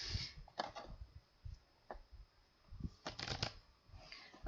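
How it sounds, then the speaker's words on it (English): A deck of cards is riffle shuffled close up, several quick papery ripple bursts, with a longer flurry near the end and no talking. "Alright, what do you call this type of shuffling? It's the Yu-Gi-Oh style of shuffling that they show in the anime."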